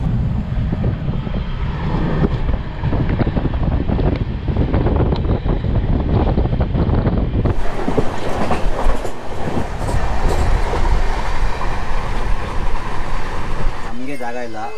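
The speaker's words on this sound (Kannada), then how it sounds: "ನೆಕ್ಸ್ಟ್ ಹಂಗೇ ಟ್ರೈನ್ ಜರ್ನಿ ತೋರಿಸ್ತೀನಿ ನೋಡಿ" A train runs along the rails on a journey from Bangalore toward Nasik, giving a steady loud rumble with wind noise throughout and rhythmic clickety-clack from the wagons, and a brief voice near the end.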